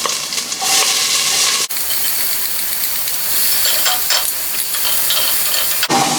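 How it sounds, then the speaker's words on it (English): Sliced onions sautéing in oil in a pan, a loud, steady sizzle and hiss, close up, briefly broken by sharp cuts where the sound drops and returns, with faint stirring scrapes and no voices. "So let's start by sauteing the onions."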